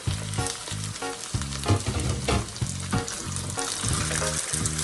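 Chicken frying with onions in a pan for ginataang kalabasa at sitaw: a loud, steady, crackling sizzle heard up close, with low rumbling bursts and stirring underneath, no voices.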